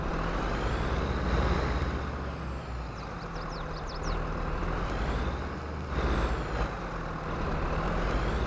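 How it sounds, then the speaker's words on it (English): An old Ford 8210 tractor engine runs steadily at farm work, a continuous low diesel drone with a thin high whistle rising and falling over it, heard close and fairly quiet. "Just enjoying the whistle of that old 8210 engine there."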